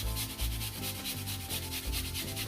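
An onion is grated by hand on a metal grater, making rhythmic, rasping scrapes in quick repeated strokes that sound close and steady. The strokes run for a couple of seconds with no voices.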